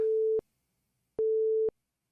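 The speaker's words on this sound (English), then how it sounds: "You can already hear the Doppler effect." A synthesized tone generated with the JavaScript Web Audio API for a Doppler effect demo sounds as clean electronic beeps: one ending, then a longer steady-pitched beep after a short silence, isolated and fairly loud.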